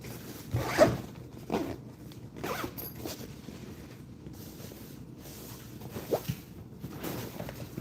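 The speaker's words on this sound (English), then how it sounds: "Zip her up." A zipper on the carry bag of a Bauer 20V HYPERMAX lithium tool is drawn closed in a few close, rasping pulls with short pauses between them, loud and alone with no talking.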